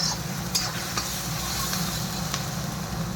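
Spatula stirring soy sauce, vinegar, chili sauce and spices through crispy pasta in a pan, a steady sizzle with a few sharp scrapes over a low hum.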